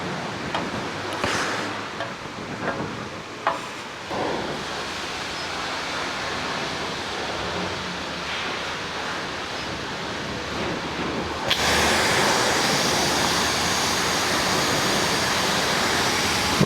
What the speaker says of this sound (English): Rinse it all off.